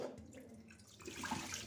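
Kunde (cowpea) leaves are being rinsed in a basin of water. The sloshing and splashing are soft and close, growing slightly busier toward the end.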